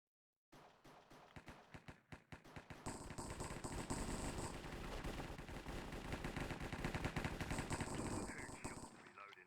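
Rapid gunfire bursts in the Minecraft game mode Mine Strike on the Hypepixel server: a sparse run of sharp shots, then near-continuous loud automatic fire with a hissing high layer over it, no voice.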